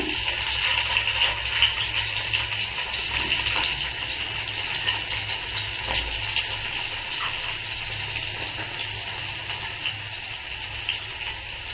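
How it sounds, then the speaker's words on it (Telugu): Eggplant pieces fry in oil in a pan, giving a steady, even hiss and crackle that runs unbroken throughout at moderate loudness, with no voices. "సో వంకాయలంతా మగ్గే వరకు బాగా ఫ్రై చేసుకున్నాము"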